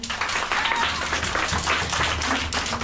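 Young schoolchildren at an independent school in Kibera clapping together for a classmate, a lively dense patter of small hands at close range, steady across the whole stretch.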